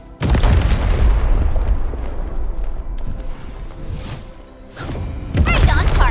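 A heavy boom from an explosion in the video game Arknights: Endfield bursts in loudly, then a long rumbling decay trails off before a second blast near the end.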